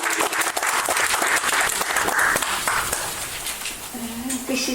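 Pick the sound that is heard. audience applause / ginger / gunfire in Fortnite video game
audience applause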